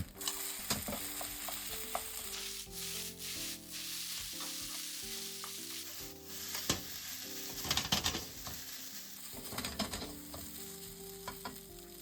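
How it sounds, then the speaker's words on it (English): Rice and egg stir-fried quickly in a pan for Japanese chahan, with a steady loud sizzle and frequent scraping, clanking strokes of a spatula throughout. "Mix the rice and egg quickly within 1 minute to make the egg fluffy."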